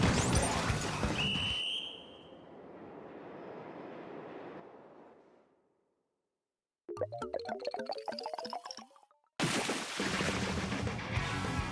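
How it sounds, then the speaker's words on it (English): A Splatoon 3 explosion bursts loudly, followed by a noisy rumbling decay, then a short break before a sharp burst of whistling, crackling game effects and another loud blast of game sound. "Why does one explosion need the power to kill someone 12 times over?"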